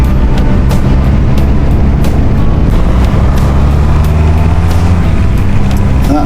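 Honda VF1000R motorcycle riding through long fast sweeping bends, a loud continuous engine drone mixed with heavy wind rush, steady and close throughout.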